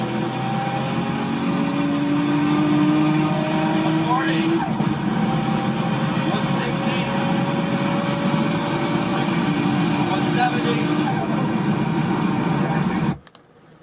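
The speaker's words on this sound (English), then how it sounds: "You can hear it, the way the blow-off valve is slow." A turbocharged race car with a boost leak and a slow blow-off valve, its engine droning steadily and loudly throughout with shifting pitch, before cutting off abruptly near the end.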